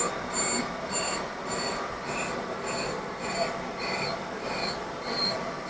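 A grinding wheel sharpening a tap gives a faint, rhythmic hiss and rasp, rising and falling about once a second as the workpiece is passed back and forth across the wheel.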